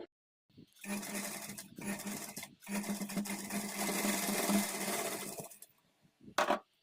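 A sewing machine stitches piping along a folded blouse neck edge, running in three steady bursts separated by short pauses, close and clear, with a brief final whir.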